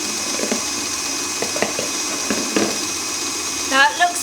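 A stand mixer whirs steadily as it beats white chocolate Italian meringue buttercream, a close, constant motorised hum with faint clicks, and a voice briefly chimes in near the end.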